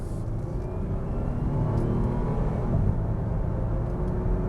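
First-generation Acura MDX V6 accelerating smoothly at half throttle, a steady, moderate engine rumble and whir heard from inside the cabin, rising gently with no talk.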